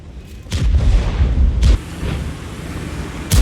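Tank cannon fire in the World of Tanks video game: a loud, deep boom near the start, another heavy blast mid-clip and a third at the end, each with rumbling decay, no talk.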